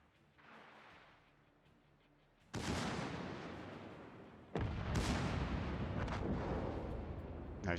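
Naval artillery booms in the World of Warships video game as a destroyer battles: two heavy, loud blasts follow a softer rumble, each leaving a long, roaring tail.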